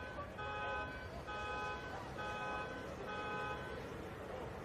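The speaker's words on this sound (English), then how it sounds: "And the car alarm goes off again." A car alarm sounds beside a men's premier league football match, its steady electronic tone pulsing in repeated bursts over a busy outdoor crowd murmur.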